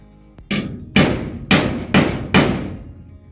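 Five sharp hammer strikes on a punch into wood ring out one after another at a steady pace, each a crisp metallic knock, close and loud.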